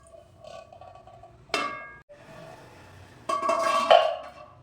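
Chicken korma stirred in a pot, with a sharp metallic clank as the lid goes on, then more scraping and clattering of metal cookware, close up and without talking.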